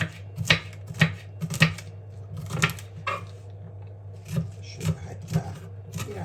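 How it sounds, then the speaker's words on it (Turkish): A knife chops seeded, washed bell peppers into small pieces on a cutting board, with steady rhythmic taps of roughly two per second over a low background hum. "Bu şekilde onları da minik minik doğruyorum."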